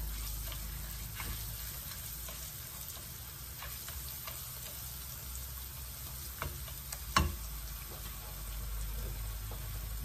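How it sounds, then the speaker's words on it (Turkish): Spoonful of pepper paste sizzling in hot oil in a pan while cooking a zucchini and eggplant dish, a steady soft frying hiss with a few sharper crackles near the end and no talking. "Isınan yağ şöyle bir kaşık kadar biber salçası ekliyorum arkadaşlar."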